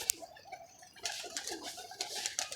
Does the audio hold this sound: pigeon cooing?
yes